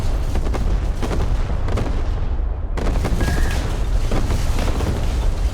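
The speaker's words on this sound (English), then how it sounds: "this is going to be a nasty Borodino strike" A Borodino missile strike in Broken Arrow levels buildings in a dense, loud barrage of booming explosions and crackling rumble, sustained throughout with a brief lull midway.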